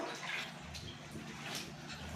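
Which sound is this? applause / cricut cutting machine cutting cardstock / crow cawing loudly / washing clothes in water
washing clothes in water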